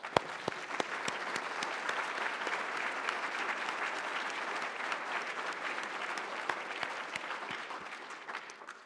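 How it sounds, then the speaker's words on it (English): Sustained audience applause at an advocacy awards ceremony, a steady wash of many hands clapping at moderate distance with a few sharper individual claps standing out, no talk over it. "Please join me in applauding everyone."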